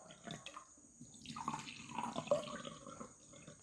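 Water poured into two glasses as part of a soil hardness demonstration for an agriculture product, a steady close trickle that swells and splashes over a few seconds.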